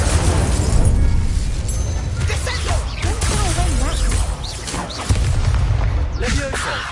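Incendio fire spell cast in Hogwarts Legacy bursts in loud, booming blasts with crackling flame and crashing impacts, layered among other spell effects in a dense, continuous combat mix.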